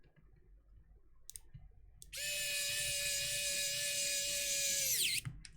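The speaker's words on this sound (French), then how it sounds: "Attends qu'on a un tournevis électrique" An electric screwdriver drives screws into a modded Game Gear handheld console, starting after a couple of clicks with a high steady whine for about three seconds, then winding down to a stop, close and alone.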